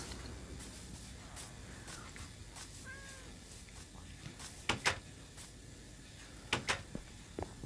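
A cat meows in the Minecraft video game, a few faint soft mews amid quiet ambient game sound, followed by several sharp clicks and taps.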